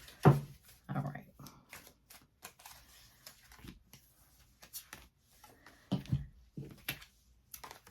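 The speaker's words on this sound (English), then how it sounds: "I'm going to do one more shuffle." A deck of tarot cards is shuffled by hand at close range, quiet papery riffles and taps arriving in short irregular bursts with gaps of near silence between them.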